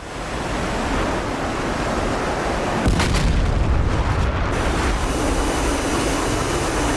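Bombs explode on the ground in DCS World, heard as a cluster of heavy, muffled booms near the middle against a steady roar of aircraft and wind noise.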